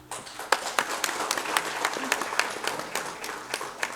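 Sustained audience applause at an inauguration ceremony for a newspaper, website and digital launch, dense steady clapping from a crowd throughout, fairly close, with no speech over it.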